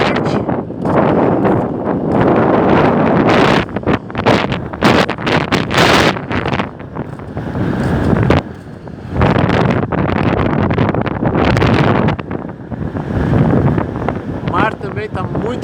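Very strong cyclone wind at Praia do Quintão beach, with rough sea and rain, roars and buffets the microphone in loud continuous gusts, with a person speaking through it.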